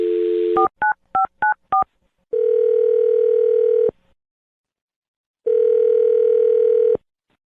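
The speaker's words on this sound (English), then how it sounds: "I'm going to dial the phone number." A telephone first gives a short dial tone, then quick DTMF keypad beeps as a number is dialed, followed by two long, separate ringback tones with silence between them.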